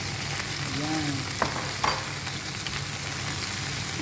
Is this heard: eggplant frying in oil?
yes